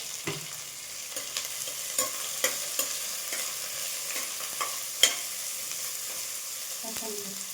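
Curry leaves, green chillies and onions sauté in a pan for sambar, producing a low, continuous sizzle broken by repeated light clicks and scrapes of a stirring spoon.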